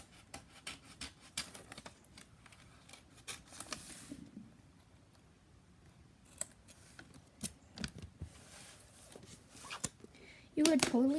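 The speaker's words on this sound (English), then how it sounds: "I decided to cut the excess paper off." Scissors trim excess paper from a composition book with a series of crisp snips and rustles, close and soft, while a person talks over parts of it.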